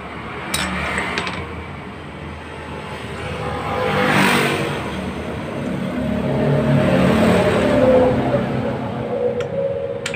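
A Yamaha F1ZR two-stroke motorcycle fitted with an RX King CDI revs repeatedly nearby, its engine swelling and easing in several throttle blips over a steady running background, with a few metallic ticks.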